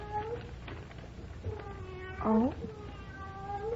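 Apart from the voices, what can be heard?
cat meowing outside the door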